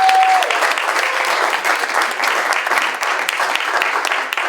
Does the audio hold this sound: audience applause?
yes